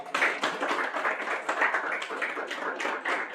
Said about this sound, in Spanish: Un fuerte aplauso para nuestros invitados